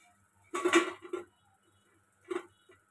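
Fried gulab jamun dropped onto a plate, a couple of short clinks and taps close by, the first cluster louder and the second lighter, in an otherwise quiet kitchen.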